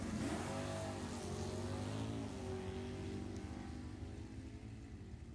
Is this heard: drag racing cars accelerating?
yes